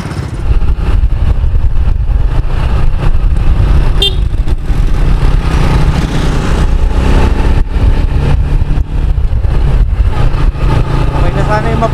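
A motorcycle with an SC Project exhaust muffler rumbles loudly and steadily up close, its engine droning throughout while people talk over it.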